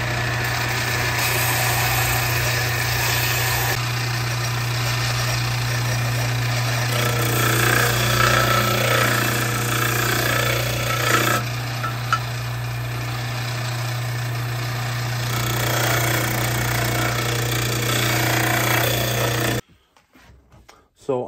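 A bench sander runs steadily at close range for about twenty seconds while a curly maple loading block is shaped against its bend, a constant motor hum with grinding contact noise before it cuts off abruptly near the end.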